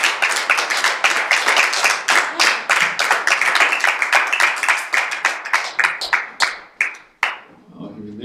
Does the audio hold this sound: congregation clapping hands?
yes